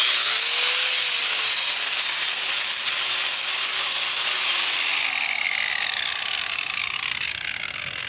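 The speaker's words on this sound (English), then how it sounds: "You either build this up with a cement towel, or you could grind this down. And what I use is a grinder like this." An angle grinder grinds down the edge of a concrete driveway, a loud, continuous high-pitched whine that holds steady for several seconds and then trails off slightly near the end, with no talking.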